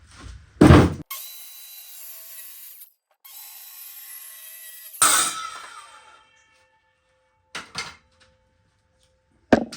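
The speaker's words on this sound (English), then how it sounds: "I'm going to take the circular saw and just start going in." A circular saw cuts wood for a whelping box, spinning up with a sharp bite, then cutting in two steady whining passes, followed by a few short knocks and handling thumps.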